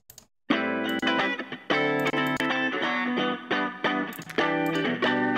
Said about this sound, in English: So I pitched it down and I added some plate reverb